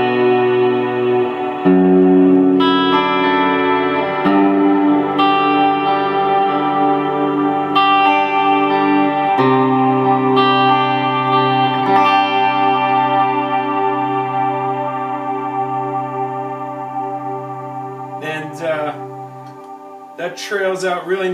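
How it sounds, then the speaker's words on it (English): Electric guitar played through a sway pedal with the reverb and decay turned up: sustained, shimmering chords ring out with a long, lush tail that slowly fades, with a few brighter plucked notes near the end. "I'm just going to turn up the reverb a little bit there on it, and as well the decay"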